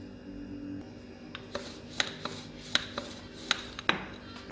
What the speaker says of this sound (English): Sprinkle flour and roll out dough with roller.